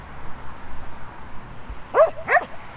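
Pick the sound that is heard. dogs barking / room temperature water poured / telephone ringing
dogs barking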